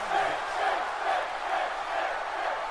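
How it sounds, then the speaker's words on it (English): Arena crowd in the wrestling video game WWE 2K18 chanting during a TLC ladder match, a loud, rhythmic swell of many voices repeating in waves, with no commentary over it. "And the crowd chanting for both men."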